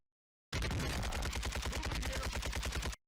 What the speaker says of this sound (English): So he starts shooting through the wall here.